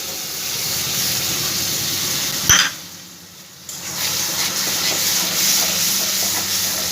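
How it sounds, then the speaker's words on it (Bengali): A paste of ground tomato and green chilli sizzles loudly in a frying pan for an egg fry, a dense hiss that dips to near quiet for about a second after a sharp knock, then surges back and holds. "এবার আমি এর মধ্যে দিয়ে দেবো টমেটো আর কাঁচা লঙ্কা বাটাটা।"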